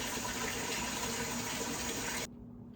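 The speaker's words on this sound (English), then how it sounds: "taking out the stainless steel pot and filling it up with some water" Warm water runs steadily from a tap into a stainless steel pot, a loud continuous gushing that stops abruptly near the end, leaving faint room tone.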